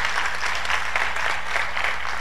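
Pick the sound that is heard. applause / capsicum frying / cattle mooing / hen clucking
applause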